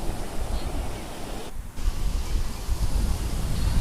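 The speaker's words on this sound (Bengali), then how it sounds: "যখন ঢেউ একটা এসে বেরিয়ে যায় তখন বেশ মজা লাগে" Ocean waves at Marina Beach, Chennai, make a loud, steady broadband roar of surf mixed with wind buffeting the microphone. A brief lull comes partway through, and there is no clear speech.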